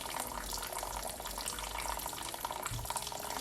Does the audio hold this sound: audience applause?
no